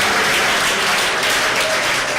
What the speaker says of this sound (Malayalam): കൈയടിച്ച് കർത്താവിന് നന്ദി പറയാം.